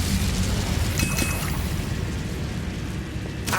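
Incendio fire spell cast in Hogwarts Legacy, a loud sustained whooshing roar of flame with booming low rumble, steady throughout and flaring again at the end, no talk.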